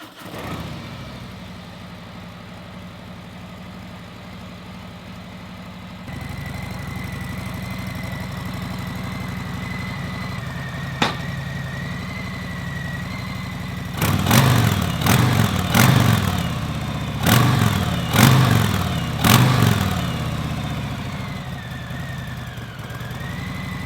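A 2018 Harley-Davidson Breakout, a 115th Anniversary model, starts and idles with a deep close rumble, then gets a series of sharp throttle blips that bark out loud.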